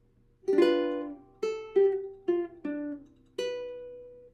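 Six plucked ukulele notes from a song ring out one at a time in a slow fingerstyle melody, each decaying before the next, close and clear.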